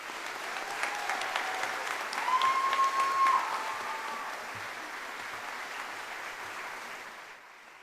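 An audience at a scholarship presentation claps steadily and fairly close throughout, swelling briefly near the middle before thinning and fading at the end.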